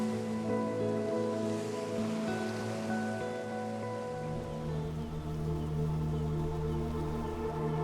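Ocean waves washing onto the beach of Balut Island at night, a continuous broad rushing surf that swells and recedes, steady and moderately loud with no voices.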